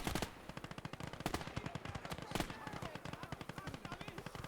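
Rapid, sustained machine gun fire in a WWII street-fighting battle game set in Normandy, dense rhythmic bursts rattling continuously with a few louder shots, heard faintly with a voice talking over it.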